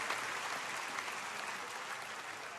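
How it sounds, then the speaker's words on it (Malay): An audience at the UMNO general assembly applauds the party's women's wing, a steady, distant wash of clapping that holds evenly across the hall without a break. "kita beri tepukan pada wanita UMNO Malaysia"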